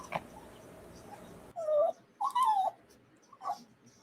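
Puppy whimpering on a couch: a few soft, rising whines and a short yip, close and quiet against a faint background hiss.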